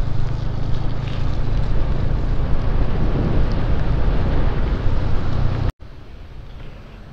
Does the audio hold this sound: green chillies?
no